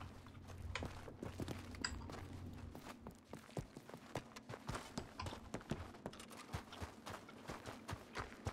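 Horse hooves clip-clop on hard ground in the RedM western game, a steady run of sharp, fairly close hoof strikes with a low rumble underneath.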